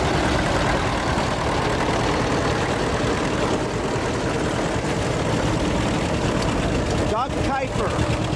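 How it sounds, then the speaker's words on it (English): A 1950 John Deere B tractor engine chugs steadily nearby with a low, continuous rumble, while a voice talks over it and a brief rattle cuts in near the end. "coming up with a model John Deere B. It's a 1950."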